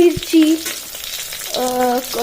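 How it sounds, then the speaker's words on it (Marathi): Chilies, curry leaves and cumin sizzle and crackle in hot oil, a steady frying hiss with a few scraping stirs, close and fairly loud. "मिरची, कढीपत्ता, तेल आणि जिरे वगैरे टाकून घेतलेलं आहे. आणि आता परतून घेत आहे."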